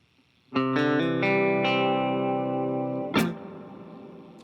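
An electric guitar strikes a few quick notes into a sustained chord that rings with a reverb tail, followed by another strum.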